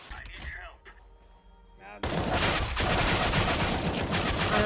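Sustained gunfire in CS:GO erupts after a quieter opening with a voice, becoming a loud, dense, continuous barrage of shots up close for the remaining seconds.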